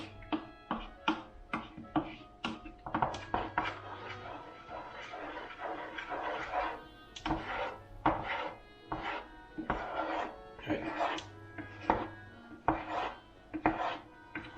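Repeated scraping and clacking of a spoon working thick polenta in a saucepan, steady rhythmic strokes close up, with a low hum beneath.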